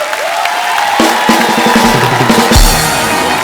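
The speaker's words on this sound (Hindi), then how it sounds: "तालियां जोरदार होनी चाहिए जरा।" Studio comedy-show audience applauding and cheering as guests Nawazuddin Siddiqui and Amy Jackson are welcomed, a loud crowd roar with music playing over it throughout.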